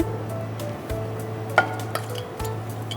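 Bay leaves, ground black pepper and three or four dried red chillies frying in hot oil, a steady low sizzle running throughout with a few soft clinks of a utensil against the pan.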